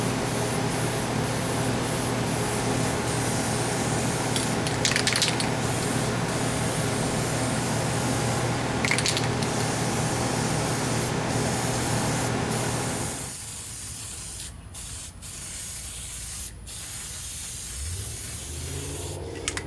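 Sealant sprayed from an aerosol can onto a head gasket for a Ford Ranger/Mazda B engine: a loud, steady, close hiss for about thirteen seconds with brief pauses, then quieter handling noises and faint knocks.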